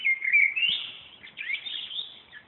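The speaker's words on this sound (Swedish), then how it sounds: "nu när fåglarna sjunger så här vackert" Birds sing on an April evening on a residential street in Blackeberg, Bromma, with clear, close chirping and whistled phrases in quick succession and no other sounds around them.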